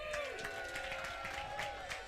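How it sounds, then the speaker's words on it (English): A comedy show crowd cheers and claps for a comedian's mother in the audience. The sound is fairly faint, a brief roar with scattered applause, and a microphone voice and music tones hang in the room. "Everybody give a cheer for my mom."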